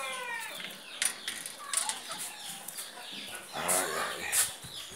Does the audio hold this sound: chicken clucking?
yes